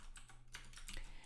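Code is typed on a computer keyboard, a brief burst of a few quiet, close key clicks over faint background hum.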